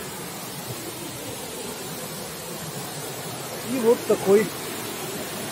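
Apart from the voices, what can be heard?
loud waterfall in the Carpathians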